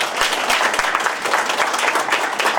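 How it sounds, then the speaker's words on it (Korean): An audience applauds at a public lecture in Daegu with steady, dense clapping that stays loud and close throughout, with no voices over it. "박수 소리가 적은 것 같아서"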